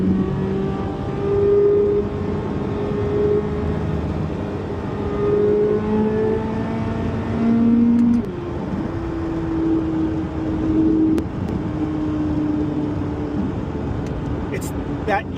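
Chevrolet Corvette C8 Z06 engine droning steadily from inside the car while driving, the pitch rising through the revs and dropping sharply at a shift before climbing again.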